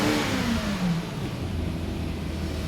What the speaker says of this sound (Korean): 가속 한번 시켜봐요